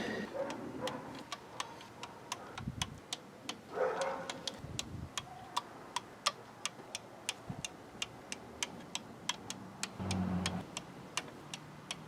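A torque wrench clicks sharply again and again while intake manifold bolts are snugged down on a 2.5 engine, the crisp clicks coming in an irregular series close by with faint shop noise between.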